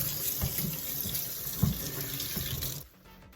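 Tap water runs steadily into a sink while locs are being washed, a close continuous splashing with a few louder splashes, then it stops abruptly near the end.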